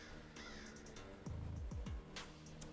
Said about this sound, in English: There is a crow sound in this song.